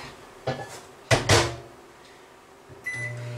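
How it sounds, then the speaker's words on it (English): A kitchen microwave oven heating a couple of sausage balls with no plate, heard as a few sharp clunks of the door and buttons followed by a low steady hum and a faint tone near the end, with no talking. "Yes, I did just pop them in the microwave with no plate or nothing."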